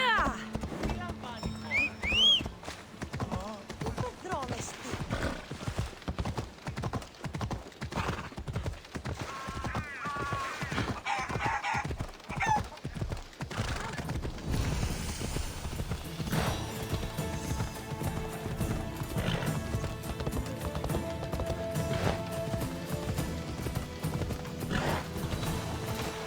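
A horse gallops in Assassin's Creed Odyssey with rapid, rhythmic clip-clop hoofbeats and a whinny near the start, continuing at an even pace under faint game ambience and brief talk.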